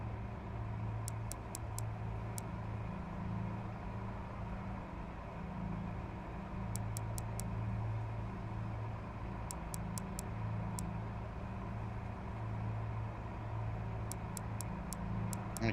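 A racing car engine in a racing video game hums steadily and fairly quietly throughout, a constant low drone with brief high chirps recurring at intervals.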